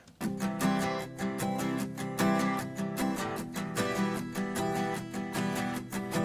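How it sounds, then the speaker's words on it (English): Steady strummed acoustic guitar chords in a simple, even rhythm for a pop country song, bright and full, with no voices. "I wanted to start out with the acoustic guitar playing just a simple rhythm"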